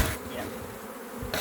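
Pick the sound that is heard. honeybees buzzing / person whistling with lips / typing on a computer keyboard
honeybees buzzing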